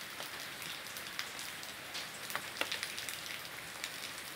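Heavy rain pours down in rural Pirambu, Sergipe, a steady dense hiss of drops on surfaces with scattered louder spatters, continuous and fairly close, with no voices.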